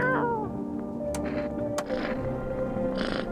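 A cat meows several times inside a video game, with short repeated calls standing out over steady tonal game music.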